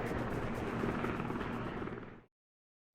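A Sea King search-and-rescue helicopter roars loudly with a rapid rhythmic rotor chop for about two seconds, then cuts to silence.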